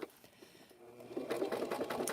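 A sewing machine, used for quilting pinwheel blocks onto a jean jacket sleeve, starts from near silence and then runs in a steady, rapid stitching chatter, close and fairly loud, with no talking.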